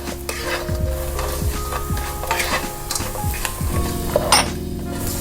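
Sliced garlic being stirred into fried pork belly in a pan, with a steady loud sizzle and repeated scraping strokes of a utensil against the metal, a sharp clink near the end.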